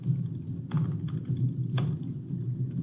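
Typing on a computer keyboard, entering a message in a portal's request form: a few light, sparse key clicks over a steady low hum, close and fairly quiet.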